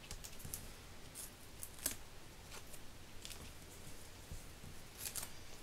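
Scissors snip small pieces of paper for a greeting card in faint, quick cuts, scattered irregularly through a quiet room.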